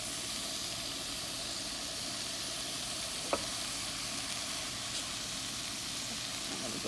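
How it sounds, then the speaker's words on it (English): Ground beef sizzles steadily in a hot pan while a wooden spoon breaks it apart, with one brief sharp scrape standing out over the continuous close frying hiss. "You can use the wooden spoon too to break it up."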